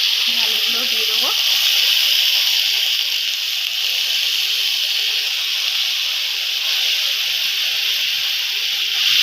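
Potatoes tipped into a hot pan for a thin Bengali mixed-vegetable curry sizzle in a steady, even hiss that runs close and loud throughout, with a brief clatter at the start.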